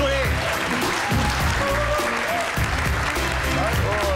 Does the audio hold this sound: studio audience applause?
yes